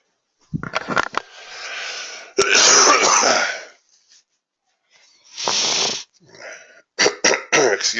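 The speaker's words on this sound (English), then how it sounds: "I'm sorry, did I just cough in your ear?" Several sharp coughs and throat-clearing bursts, close and loud, separated by short pauses, ending in a quick cluster of coughs.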